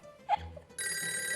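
A telephone bell starts ringing in a sitcom scene, a steady bright continuous ring following a brief sharp sound and a short voice.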